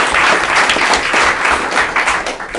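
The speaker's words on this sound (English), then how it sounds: "we can certainly give her a round of applause" An audience at a school board meeting applauds with dense, steady clapping that fills the whole stretch at close range, then tapers slightly near the end.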